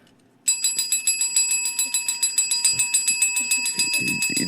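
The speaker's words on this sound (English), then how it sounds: "That was a ding ding ding ding ding. Super ding, bell." A bell on a podcast set is struck over and over in a quick, even rhythm of bright metallic dings that ring out close and loud after a moment of quiet, with faint voices underneath.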